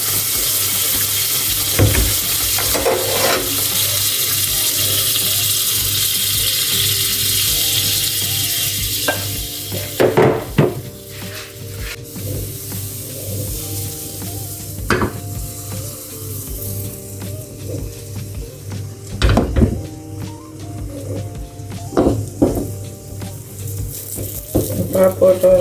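Pancake batter fries in cooking butter in a pan with a continuous loud sizzle, broken by scattered clicks and scraping knocks of a utensil against the pan.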